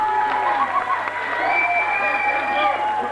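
An audience applauding during a French stage challenge show, steady mixed clapping from a crowd with some cheering, continuous and moderately close across the short span, with background voices.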